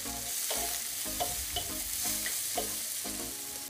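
Ingredients gently sautéing in a pan over low heat while prepping rice with salt cod and cauliflower, with a soft steady sizzle and occasional stirring scrapes and clinks close by.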